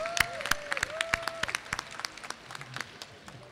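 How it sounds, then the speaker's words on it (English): Audience applause at a closing session of an academic conference: many hands clapping in a steady, dense patter that runs throughout, with a faint voice passing over it. "Let's give them a big round of applause."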